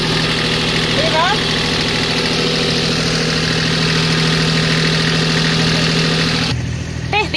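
A boat's inboard engine hums steadily at elevated revs with a strong low drone and mechanical knocking, loud and close, cutting off abruptly near the end with brief chirping sounds.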